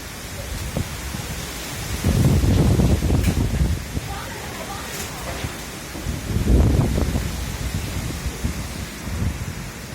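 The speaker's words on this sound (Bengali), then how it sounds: "অবিরাম বৃষ্টি।" Incessant rain and gusting wind roar during Cyclone Remal on 28 May 2024, a loud, continuous rush that swells into two heavy gusts of low rumbling buffeting before easing back to a steady downpour.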